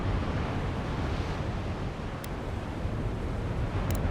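Ocean waves break against rocks in the fantasy video game Avowed, a loud, steady rushing roar of surf and wind that fills the whole stretch with no talk.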